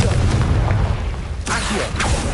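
Confringo blasting spell in a Hogwarts video game: two bright bursts in quick succession over a low rumbling game backdrop, moderately loud.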